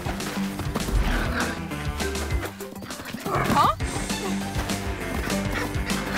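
A cartoon puppy barks and yips in short bursts over a busy music track, with a voice briefly reacting partway through.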